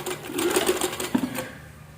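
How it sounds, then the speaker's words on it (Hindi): A sewing machine stitches a frill for a curtain, giving a short close burst of quick rhythmic needle clatter that slows and fades out. "फिर एक सिलाई लगा लेना है।"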